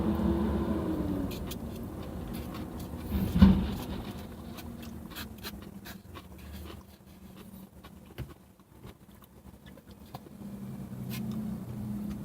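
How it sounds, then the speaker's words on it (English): Trucks and other traffic rumble past on a busy road, a steady low roar that swells around the three-second mark and again near the end. "Trucks everywhere."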